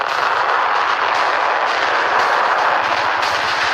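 A Minuteman III missile launching from its silo makes a loud, continuous, broadband roar that holds steady for several seconds, dense and rumbling, with no voices.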